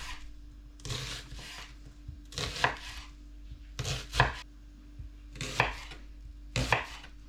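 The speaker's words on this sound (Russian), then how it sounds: "Режем наш лук полукольцами." A knife slices an onion into half rings on a board, five crisp separate cuts at an uneven pace, close and quiet, with no talk.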